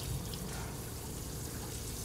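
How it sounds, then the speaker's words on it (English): Hot water runs steadily from a tap, an even hiss and splash of flowing water lasting throughout, fairly quiet and with no voices. "we'll run the water and just check to make sure that we do actually have hot water"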